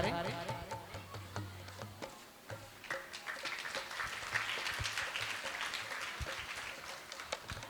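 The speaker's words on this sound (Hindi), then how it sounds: "जोरदार तालियों के साथ आप स्वागत करें" An audience applauds to welcome a guest onto the stage at a Hindi-language gathering, with irregular claps building into sustained applause while music and a voice continue underneath.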